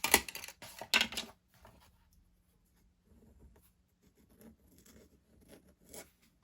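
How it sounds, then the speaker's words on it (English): A straight nib in a straight holder scratching dry across notebook paper without ink: a couple of louder rasping strokes at first, then fainter, intermittent scratches close by. "you can hear a bit of scratch without putting any ink on it"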